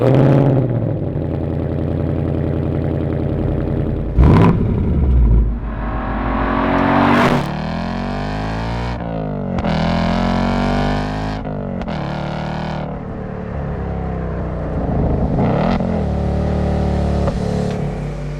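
A 2024 Ford Mustang GT V8 with a six-speed manual revs loudly and close, its engine note climbing and falling in repeated sweeps with brief gaps between blips, with no voices present.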